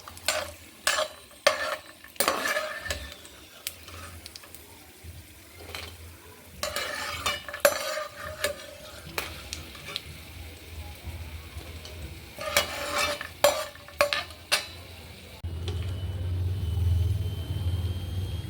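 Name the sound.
frying in a pan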